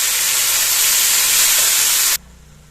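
Fenugreek greens dropped into a pan of fried garlic give a loud, steady, hissing sizzle close up that cuts off abruptly, leaving a faint low hum.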